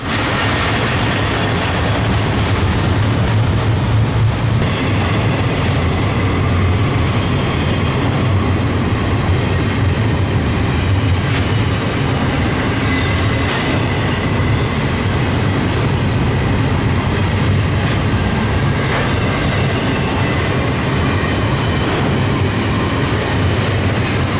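A long freight train of 53-foot domestic and 40-foot international containers rolls steadily past, close and loud, its wheels clattering and rumbling continuously with occasional sharp metallic squeals.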